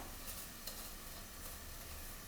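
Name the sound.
spoon stirring millet toasting in olive oil in a pan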